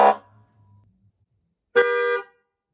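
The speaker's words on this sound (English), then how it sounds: "that sound like a fire truck or a police car when you honk the horn" A Tesla Cybertruck sounds its horn in one sharp, loud blast of about half a second, preceded by a brief fading tone, in an otherwise quiet moment.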